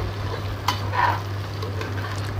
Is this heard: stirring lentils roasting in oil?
yes